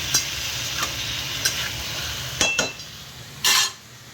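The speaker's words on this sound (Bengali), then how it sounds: "এবারে আদা রসুন আর পেঁয়াজ দিয়ে বাটা দিয়ে কষাচ্ছি" Potatoes stirred and fried in a pan with ginger, garlic and onion paste, a steady close sizzle broken by a few sharp scraping stirs of the spoon, the loudest near the end, with no talking.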